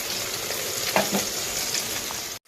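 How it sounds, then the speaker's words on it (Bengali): Steady crackling sizzle of fish frying red in hot oil, with a couple of soft scraping stirs partway through; no voices. "মাছটা লাল করে ভাজা হয়ে গেছে নামিয়ে নিচ্ছি"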